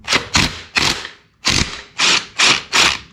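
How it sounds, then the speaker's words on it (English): A ratchet loosens a 14 mm bolt on the clutch starter assembly of a 1985 Yamaha, with seven rapid clicking bursts in two groups, close and crisp, with no talking. "we're gonna take off this bolt that's holding on this clutch starter assembly"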